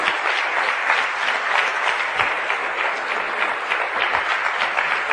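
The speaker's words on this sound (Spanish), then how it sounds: "aplauda al Señor" A church congregation applauds during a Spanish-language sermon, a loud, dense and continuous wash of many hands clapping at once that holds steady throughout, with no voices standing out.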